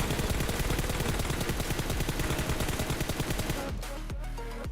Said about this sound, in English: Surprising your enemies by jump firing and later crouch firing